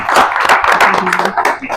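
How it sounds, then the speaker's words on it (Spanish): Audience applause at a neighbourhood talk event, a short burst of clapping from a small crowd mixed with a voice speaking. "Un aplauso"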